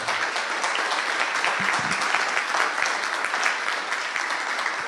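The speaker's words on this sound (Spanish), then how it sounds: "Esto merece un aplauso." Church congregation breaks into dense, steady applause, many hands clapping close and loud for several seconds with no talk.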